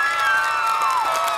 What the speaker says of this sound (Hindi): अरे तालियां कहाँ हैं आपकी तालियां?